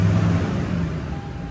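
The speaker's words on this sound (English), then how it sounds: "You guys can hear that the engine sound a lot more better already." A Toyota Tundra pickup's engine idles close by in a steady, loud, low rumble that eases down slightly over a brief moment.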